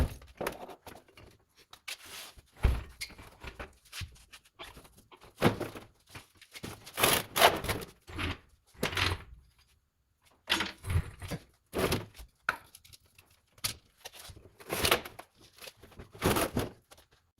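Irregular clunks, metallic thuds and rattles come from work pulling fuel tanks out of a dirty Chevy Squarebody truck, scattered bursts of banging separated by short quiet pauses, close by.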